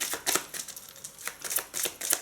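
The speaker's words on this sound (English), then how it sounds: "just give these a bit of a shuffle up" Tarot cards riffle and slap together in quick crisp bursts, a few shuffling flurries close up with short pauses between.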